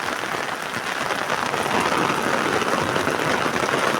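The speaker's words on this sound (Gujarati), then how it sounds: "ફૂલ વરસાદ પાછો ચાલુ થઈ ગયો" Heavy rain pours down steadily in Patdi, Gujarat, a dense, continuous hiss of drops hitting surfaces, loud and close with no pauses.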